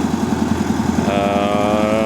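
A Yenisei 1200 combine engine runs with a Don-1500 rotating air intake, making a loud, close, steady rhythmic engine rumble with an added whirring tone partway through.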